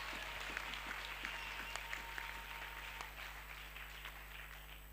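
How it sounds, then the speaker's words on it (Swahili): A church seminar congregation applauding together in steady, dense clapping that carries on for several seconds, heard from a distance at low level, with a faint low hum beneath. "On va acclamer pour la gloire de Dieu."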